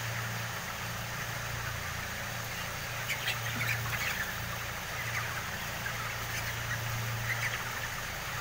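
Chickens call intermittently with faint, scattered clucks and squawks over a constant low engine-like hum, with no talking.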